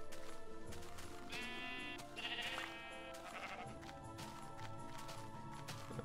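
Sheep in the Minecraft video game bleat in a couple of short wavering calls over background game music and ambience, fairly quiet.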